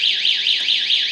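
Viper 3121V power sport alarm going off on a Kawasaki ZX6R motorcycle: a loud, piercing electronic siren sweeping up and down in rapid, regular warbles, steady and close with nothing else heard.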